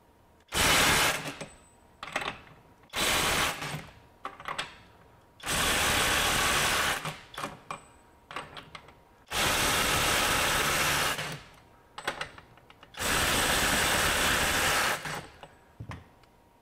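A FLEX 24V FXM202 impact driver hammers in five loud, sustained bursts of one to three seconds each, separated by short pauses, with clicks and handling noise in the gaps.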